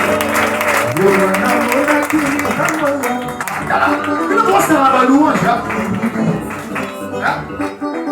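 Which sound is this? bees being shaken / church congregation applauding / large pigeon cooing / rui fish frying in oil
church congregation applauding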